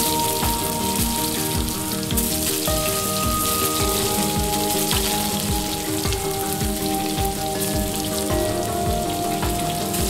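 Chicken fries in a few tablespoons of oil in a pan, giving a dense, rain-like crackling sizzle that holds steady and loud throughout.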